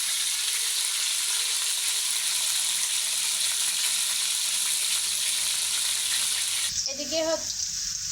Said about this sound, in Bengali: আলুটা ভাজতে দিয়ে